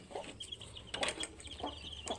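Chickens in a small home coop, including a brooding hen with newly hatched chicks, cluck in short, soft, scattered calls heard faintly from a little distance.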